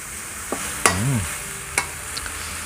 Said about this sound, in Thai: ตีนไก่ที่ยังไม่ได้ ต้มมา ผัดเนี่ย เราก็จะใช้เวลาผัดนานนิดนึงนะ